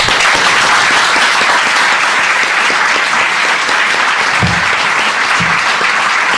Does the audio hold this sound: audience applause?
yes